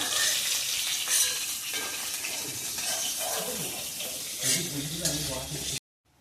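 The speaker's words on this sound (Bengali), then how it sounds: "তেলটা গরম হয়ে গেছে, যে চিংড়ি মাছ এই বড়া ভেজেছিলাম সেই তেলেই আমি জিরা কটা ফোড়ন দিয়ে দিলাম।" Cumin seeds tempering in hot oil previously used to fry shrimp fritters give a steady, loud sizzle with some stirring clatter, running continuously before cutting off abruptly near the end.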